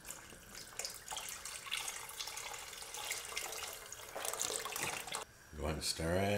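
Liquid, likely broth or cream, being poured into a pot of Zuppa Tuscana soup. A steady splashing, running pour continues throughout, briefly under a voice, and ends with a few louder splashes near the end.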